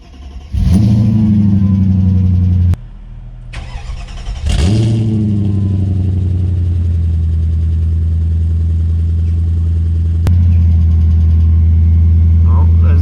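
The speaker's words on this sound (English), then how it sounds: "Hydraulic lifters finally getting some oil." A car engine that has sat unused for a long time cranks, catches and settles into a loud, steady idle, with a brief cut and restart early on and a faint ticking as the hydraulic lifters pump up with oil.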